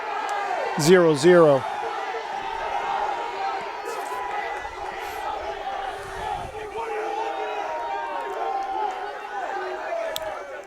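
Crowd at a high school boys' varsity soccer game chanting and cheering from the stands, a steady mass of voices with a loud whistle-like shout near the start, continuing as a broad roar under the commentator's talk.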